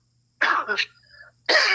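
A woman coughs twice in short, harsh bursts close by, separated by a brief quiet pause.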